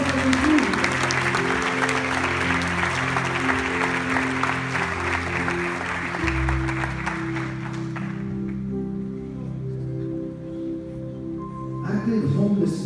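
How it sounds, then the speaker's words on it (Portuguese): A church congregation at a healing and deliverance meeting applauds for Jesus, sustained loud clapping over music that fades out near the end. "Aplausos a Jesus. Aplausos."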